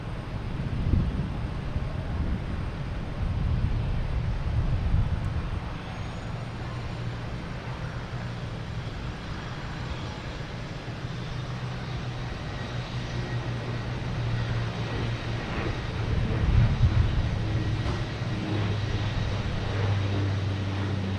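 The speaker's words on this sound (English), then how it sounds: "We have the Dash 8, the dashboard, heading back to Toronto, taking off on 22 right." Dash 8 turboprop airliner taking off from runway 22 right at Boston Logan Airport, a steady low engine drone with wind buffeting the microphone, swelling louder toward the end.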